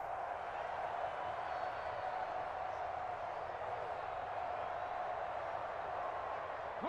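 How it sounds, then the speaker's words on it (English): Stadium crowd at Arrowhead in Madden NFL 24 roaring steadily from a distance, a continuous wash of noise held at an even level throughout, with no one talking. "The Arrowhead crowd in full roar."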